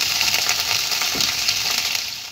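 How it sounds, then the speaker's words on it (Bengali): Cauliflower frying in a pan, a loud continuous close sizzle with soft stirring pulses, no voices. "ফ্রাই করে নেব।"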